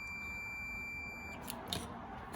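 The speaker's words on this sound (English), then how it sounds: "with this meter, just by a simple continuity test" A multimeter's steady high continuity beep sounds while its probes test a relay in a 2008 Toyota Sienna's blower motor circuit, holding unbroken before cutting off, followed by light clicks and handling noise.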